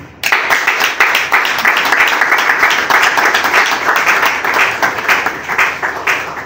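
Loud audience applause at a festival press conference, a sudden burst of dense clapping that holds steady for several seconds and then begins to thin at the end.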